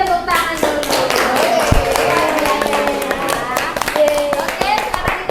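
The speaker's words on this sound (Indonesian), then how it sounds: "Berikan tepuk tangan dulu." An audience claps at a madrasah teachers' learning-innovation competition as a group presentation ends, a dense burst of many hands lasting several seconds with voices mixed underneath.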